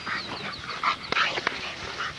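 A young puppy, a 3.5-month-old kennel pup in an outdoor yard, gives several short, fairly faint yips and whimpers at irregular intervals over steady background noise.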